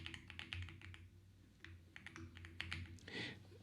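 Computer keyboard typing in bursts of quick, close taps with short pauses, entered while writing JavaScript code during a programming lesson.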